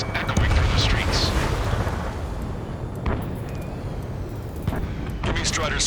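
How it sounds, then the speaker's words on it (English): Gunfire and jet roar over a city under martial law in the video game Ace Combat 7, a dense, continuous rumble with sharp blasts standing out near the end. "Gunfire and the roar of jets echoing through the streets."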